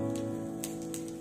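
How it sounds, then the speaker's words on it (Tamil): Mustard seeds with cumin spluttering in hot oil during tempering, a brief close crackle of fine pops over a steady sizzle. "தாளிச்சுக்கணும் கடுகு நல்லா பொட்டட்டும் கூடவே ஜீரகம்"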